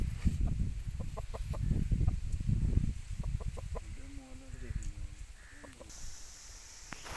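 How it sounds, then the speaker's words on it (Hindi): An aseel gamecock, a one-time fight winner, gives soft clucking calls in short pitched phrases close by, following a stretch of indistinct voices and handling noise, with faint background sounds around it. "बहुत खूबसूरत और इंतहाई अच्छा असील मुर्गा है"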